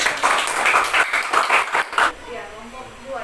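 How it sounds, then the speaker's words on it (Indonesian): A classroom applauds a student presentation group, a burst of many hands clapping unevenly for about two seconds, close and lively, then dying away into quiet room noise. "sebelumnya kita tepuk tangan dulu untuk kelompok 1 ya"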